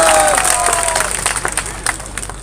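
A large crowd at a political gathering breaks into loud applause and cheering as an opposition deputy leader of the state assembly is introduced, dense clapping under shouts, with a whistle-like tone fading early on.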